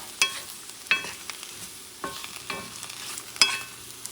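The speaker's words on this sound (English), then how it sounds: "is you're going to saute the mushrooms. Just a little saute, couple minutes." Mushrooms sautéing in a pan sizzle quietly, broken by a handful of sharp stirring scrapes and clinks spaced irregularly, close and with no talk.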